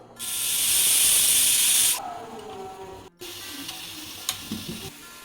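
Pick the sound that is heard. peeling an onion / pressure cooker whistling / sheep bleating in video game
pressure cooker whistling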